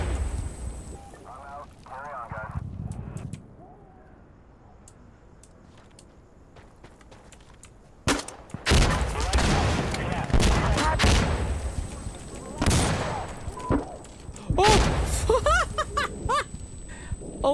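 Grenade launcher fire and explosions in a VR shooter game: after a quiet stretch, a burst of loud, booming blasts and rapid gunfire erupts, with repeated heavy hits continuing to the end.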